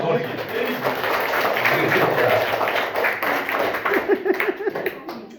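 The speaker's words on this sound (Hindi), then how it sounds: "ग्रेट, ताली बजाई दी।" Children clapping in a primary school classroom, a burst of hand claps that turns into a quick run of separate claps near the end, with a teacher speaking over them.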